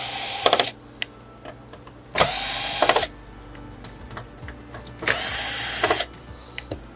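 A power drill backs screws out of an LG 55LX6500 TV mainboard in three loud, close bursts of whirring lasting about a second each, with quiet handling clicks and rattles between them.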